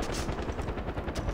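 Rapid automatic gunfire in Far Cry 4, a fast rhythmic burst of shots, loud and close, with no talk.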